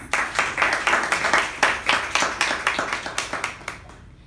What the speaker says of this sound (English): So for the speaker and for the evaluator, a round of applause.